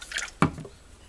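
Distilled water dripping from a saturated wet sponge into a bowl while re-seasoning a humidor; a couple of close, soft wet drips and splats, one sharper, then quiet.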